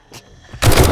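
Gunfire in the survival game 7 Days to Die: quiet game ambience, then a sudden loud burst of shooting that keeps going to the end.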